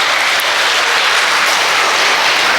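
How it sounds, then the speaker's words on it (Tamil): An audience at a district-level abacus event applauds, a dense, even wash of clapping that holds steady and loud from start to finish. "கைத்தட்டுங்க இந்த ரிசர்ச் ஸ்காலர்கள்லாம்"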